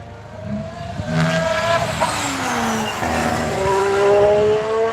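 A Ferrari race car's engine howls past at a test session, rising harmonic whine sweeping through gear changes with tire noise, steady and fairly loud throughout.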